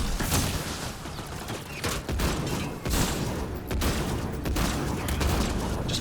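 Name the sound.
gunfire in video game Mass Effect: Andromeda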